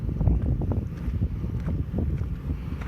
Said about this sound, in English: This is a really long time for an APU to be running.